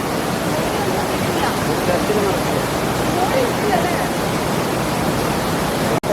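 Rushing water at the Orakkuzhi waterfalls roars as a loud, steady broadband wash close by, with a voice speaking briefly over the constant torrent.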